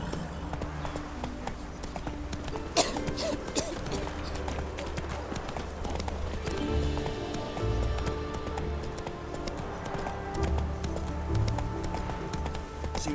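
Game horse Roach from The Witcher 3 clip-clopping along at a steady pace, hoofbeats continuous across the scene under ambient game music, with a voice speaking briefly over it.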